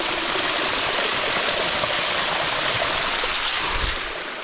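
Water free-falling along the Eagle Creek trail makes a steady, loud broadband rush of splashing and pouring, close by and unbroken throughout, fading slightly near the end.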